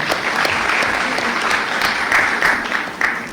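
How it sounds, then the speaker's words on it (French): Steady applause from an audience, close and fairly loud, with individual claps cutting through the even wash of sound. "On l'applaudit, s'il vous plaît."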